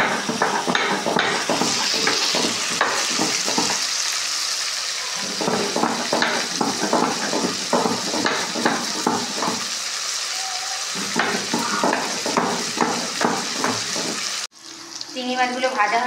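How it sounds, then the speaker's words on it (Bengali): Prawns frying in a pan give a close, continuous sizzle with bursts of spattering crackle, briefly easing twice before picking up again, and a sharp change near the end. "চিংড়ি মাছগুলো ভাজা হয়ে গেছে"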